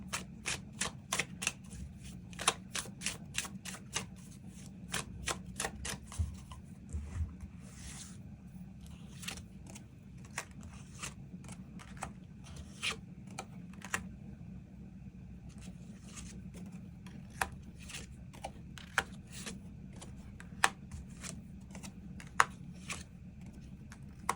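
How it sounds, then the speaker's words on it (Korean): Tarot cards being shuffled and drawn: a fast run of crisp flicking clicks gives way to scattered soft snaps and slides of cards, quiet and close, with no talking. "새로운 인연의 등장 시기에 대해서도 추가 카드 뽑아보도록 하겠습니다"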